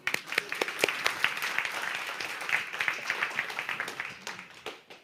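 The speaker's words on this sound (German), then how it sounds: "Applaus" A church congregation applauds during a sermon, a lively patter of many hands with distinct individual claps standing out, fairly close and sustained before thinning toward the end.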